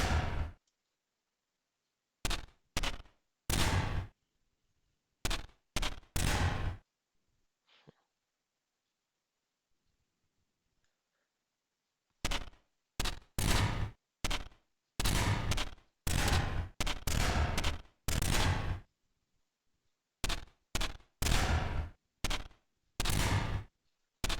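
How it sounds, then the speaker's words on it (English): Cannon fire sound effects from the video game Neon Defense: clusters of sharp, loud blasts in rapid bursts separated by silent gaps, with a long pause midway before the volleys resume densely. "every time the cannon fires"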